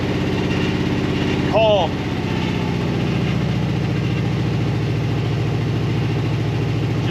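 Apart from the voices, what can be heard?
1975 International 200 truck engine idling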